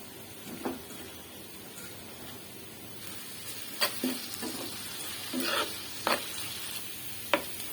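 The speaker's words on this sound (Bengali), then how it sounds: "একটা কড়াইতে তেল গরম করে নিয়েছি, সব একসঙ্গে দিয়ে দিচ্ছি" Potatoes, onion and green chillies fry in hot oil in a wok, with a low continuous sizzle punctuated by several sharp spatula clacks and scrapes against the metal.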